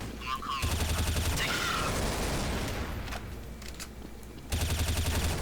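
Rapid bursts of gunfire crackle in a Counter-Strike: Source match, loud and dense, with a sharp volley at the start and another at the end, sniper shots mixed among automatic fire.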